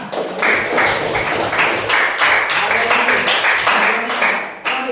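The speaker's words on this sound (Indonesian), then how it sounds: "Tepuk tangan." A classroom full of students clapping together, dense applause that holds steady for several seconds, then thins out and stops.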